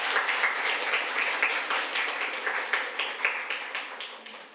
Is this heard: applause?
yes